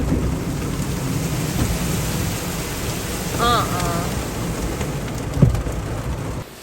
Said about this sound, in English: We've had nothing but storms, cloudy weather, and rain weather, and rainy skies.